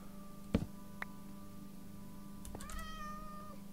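A cat meows in Minecraft, a single drawn-out call late in the clip, preceded by a sharp click and a steady low game hum, with no talking.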